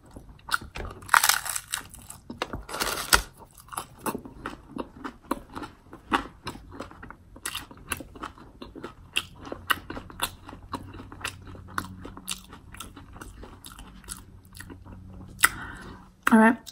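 Loud, close chewing and lip smacking while eating a spread of Taco Bell food, wet crunching and squishy bites repeating throughout, with brief talk early on.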